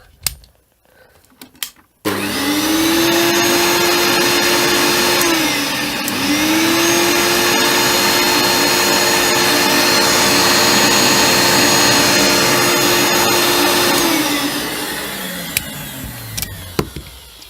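A Hoover Turbomaster U5096 Electronic upright vacuum cleaner, rebuilt with new bearings, switches on after a couple of quiet seconds and runs with a loud, smooth, steady whine, then winds down near the end.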